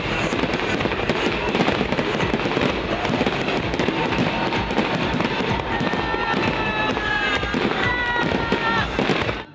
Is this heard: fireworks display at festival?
yes